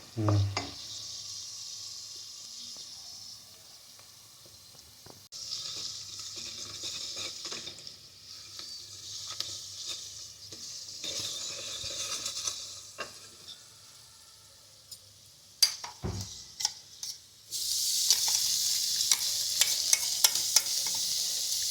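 Onions browning on a low gas flame sizzle softly while a utensil scrapes and stirs through the pan, with scattered clinks and a louder, brighter burst of frying near the end.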